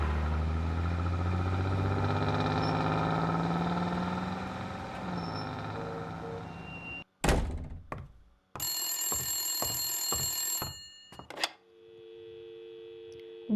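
A telephone rings in an in-game scene from Blacksad: Under The Skin, coming in as a series of clear, evenly spaced bell rings after a stretch of low rumbling ambience, then cut off abruptly.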